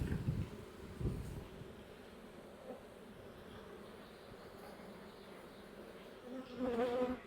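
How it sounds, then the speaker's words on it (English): Many honey bees hum in a continuous low drone inside a bee shaker box, faint and close, with occasional louder buzzes as individual bees pass near. "Now I've just got to get these bees out of my shaker"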